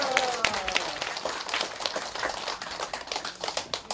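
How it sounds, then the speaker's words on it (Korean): Church congregation at Moriah Church applauding to welcome a preacher: scattered hand claps that settle into a steady, moderately loud patter of many hands, with no talk over it. "나오실 때 할렐루야 박수로 환영합니다."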